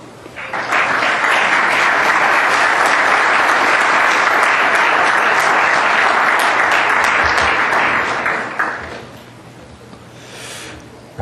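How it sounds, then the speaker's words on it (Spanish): Loud, sustained applause from a large audience welcomes Dr. Costa to the lecture podium, a dense roar of clapping for about eight seconds before fading to quiet. "recibamos al doctor Costa con un fuerte aplauso."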